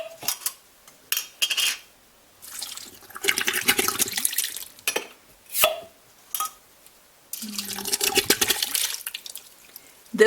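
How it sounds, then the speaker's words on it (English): Two quarts of whole canned tomatoes with their juice poured into a cooking pot, giving loud, close sloshing and splattering liquid in several bursts separated by short pauses, with glass and metal clinks between pours. "And then I'm using 2 full quarts of whole tomatoes"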